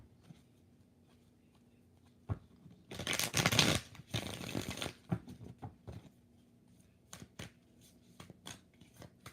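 Tarot cards shuffled by hand in three bursts, a loud riffling flurry of about two seconds followed by softer ruffles and scattered light taps and slaps of the deck, close up with no talking.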